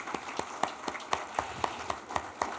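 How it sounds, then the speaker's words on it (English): An audience at a seniors' awards ceremony applauds, with distinct, evenly spaced claps in a light, fairly quiet round. "Please give her another round of applause"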